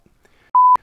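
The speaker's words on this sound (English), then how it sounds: "if you press these buttons, you get beeps and warnings" A single steady electronic beep from a button press on a Jumper T18 or Radiomaster TX16S radio transmitter, clean and sustained for a fraction of a second, ending with a sharp click, alone in near silence.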